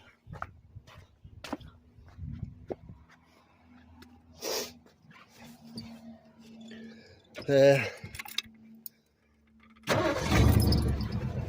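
A car engine fed by a 4-barrel carburetor that had been flooding is kicked down and revved in a few sharp bursts, the last one loud and sustained, with scattered clanks and quiet moments in between.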